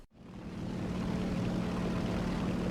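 Aircraft engine drone in the War Thunder combat flight game, a steady broadband roar rising within the first second and then holding constant, with no voices.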